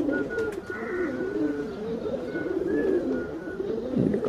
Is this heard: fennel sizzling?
no